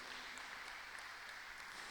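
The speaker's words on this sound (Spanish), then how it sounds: "Dale un aplauso al Señor por ese motivo." A church congregation claps together in a brief, distant-sounding burst of dense, even applause that holds steady for a couple of seconds.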